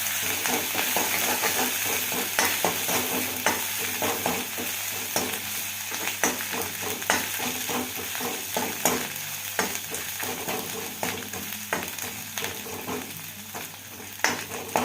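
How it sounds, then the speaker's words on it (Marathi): Ginger and garlic paste roasts in a pan for tomato saar, a steady close sizzle broken by frequent rhythmic scrapes and taps of stirring. "अर्धा इंच आलं आणि सात ते आठ लसणाच्या पाकळ्या आपण घेतल्या तर त्याही घालूया आणि हे व्यवस्थित भाजून घ्यायचं"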